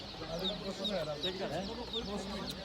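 Hens at the Taşköprü poultry market in Kastamonu cluck in quick overlapping bursts, close and busy, over a murmur of market noise.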